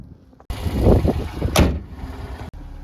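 A Toyota RAV4 engine cranks and catches with a sharp burst, then settles into a steady idle close by, ending with a brief click; no talking.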